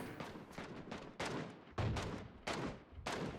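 Gunfire in the video game PUBG comes as a series of sharp shots and short bursts at an uneven rhythm, faint and somewhat distant, with no talk.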